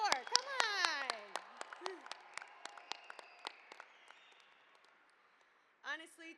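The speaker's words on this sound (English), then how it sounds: "let's give a massive round of applause for them" Graduate commencement attendees give a thin, scattered round of clapping that opens with cheering voices, thins to sparse individual claps and fades out, then a voice speaks.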